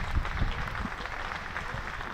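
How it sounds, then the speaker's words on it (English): Crowd applause at a county cricket match, Hampshire v Essex, as Hampshire reach 400 runs: steady, fairly faint clapping from spectators in the ground, continuous across the whole stretch with no voices. "the applause is for the Hampshire 400, which has come in 101 overs"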